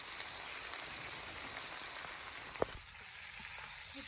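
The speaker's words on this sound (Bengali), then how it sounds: "এটা আমি ভালো করে কষিয়ে নিচ্ছি" Chicken curry sautéing in a pan with salt and turmeric, a steady broadband sizzle like light rain throughout, with one brief sharp tick near the end.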